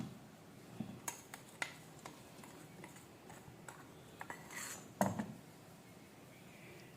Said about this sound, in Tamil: நம்ம வந்து இந்த மாதிரி ஒரு சின்ன ஜல்லடை வச்சு நம்ம ஜலிச்சிக்கலாம்.